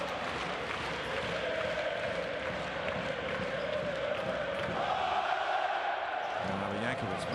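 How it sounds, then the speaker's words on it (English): A basketball arena crowd at a Basketball Champions League game between AEK and Rasta Vechta roars steadily, with a continuous, dense wash of cheering that swells slightly near the end, and commentary talking underneath. "Crowd really rocking and rolling inside of Waka now."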